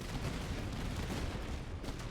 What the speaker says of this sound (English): Cannons are shooting at them.